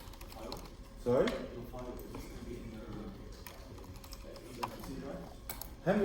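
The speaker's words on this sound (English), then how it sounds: "Haven't you been typing it out?" Computer keyboard typing in a classroom coding session, a steady run of light clicking keys at moderate distance, mixed under murmured conversation and room noise.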